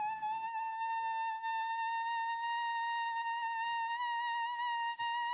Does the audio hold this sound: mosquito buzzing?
yes